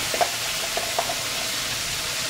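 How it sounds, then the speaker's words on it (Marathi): Spice masala tipped into hot oil after a cumin and mustard-seed tempering for a traditional brinjal dish, giving a steady close sizzle with a few faint soft clinks and no voices. "हा मसाला तेलामध्ये घालायचा"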